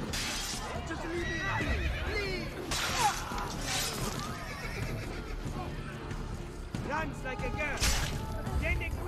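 Horse neighing and whinnying in Assassin's Creed Brotherhood, with hoof clip-clops, mixed into a busy game soundscape of fighting and shattering effects, while a voice talks over much of it.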